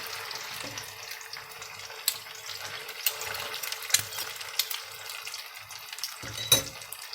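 Hot pepper paste fries in a pan beside cooked eggs for a Şanlıurfa breakfast dish, giving a soft, continuous sizzle with occasional scrapes and clicks close by and no talk.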